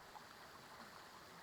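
A river stream flows in a steady, broad rush of water, continuous and fairly soft, with no voices over it.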